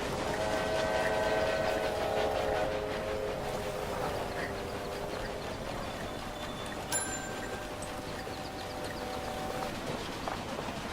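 Trains running in the railway management game Railway Empire, set in Great Britain and Ireland: a steady rolling rail rumble with sustained whistle-like tones and a brief bright chime, moderately loud throughout with no talking.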